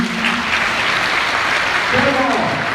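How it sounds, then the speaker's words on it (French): Audience applause at a political evening event, a loud continuous round of clapping from the crowd with a voice speaking over it toward the end. "Et je vais vous demander d'applaudir pour Hervé Ouattara"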